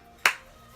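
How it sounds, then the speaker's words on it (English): A single sharp hand clap, close and crisp, with a quick decay into a quiet room. "I don't know why I clapped either"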